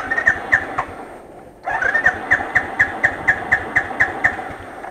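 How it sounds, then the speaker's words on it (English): Royal Enfield Thunderbird motorcycle engine cranking with a rhythmic whirring, cutting out briefly, then cranking again in even repeated pulses, loud and close. "One more time, I'm trying to crank my engine."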